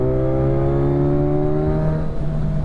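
A Kawasaki Ninja 1000SX with a Black Widow full decat exhaust drones loudly and steadily nearby, its deep engine tone holding and dipping slightly in pitch.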